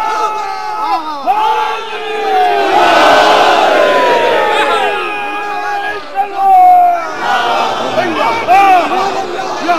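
A large congregation at a Shia majlis mourning gathering chants salawat loudly in unison, massed voices surging in repeated swells with a brief lull before a second strong wave.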